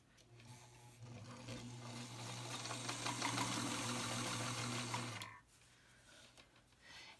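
Sewing machine running a straight stitch through the fabric of a homemade face covering, about 3/8 inch from the edge, a steady continuous mechanical whir lasting about five seconds before stopping.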